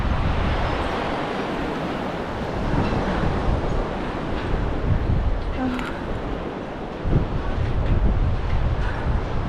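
Strong gusting wind buffets the microphone on the Hillary Bridge, a high suspension bridge on the Everest base camp trek, a steady loud roar with rumbling surges, while a voice is faintly heard under it.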